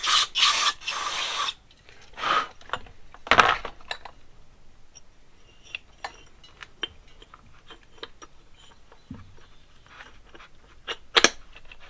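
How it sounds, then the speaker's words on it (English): Short hissing bursts of carburetor cleaner spray on a 1982 Honda CB650 carburetor, a few quick ones at first and then a longer blast, followed by scattered small clicks and taps. "This carb cleaner gets all the little pieces of dirt and grime off it."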